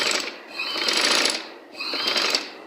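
Sewing machine stitching the hem of a Pakistani kameez, running in two loud, close bursts of fast whirring with a short pause between, no talking.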